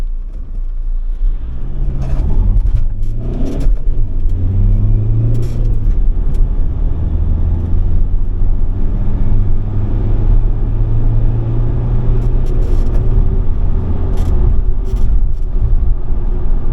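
A stolen Ford Transit Custom van, rebuilt with a new turbo, cleaned DPF and an engine remap, rumbles loudly as it pulls away and accelerates, its engine note climbing and holding through the gears with no talk.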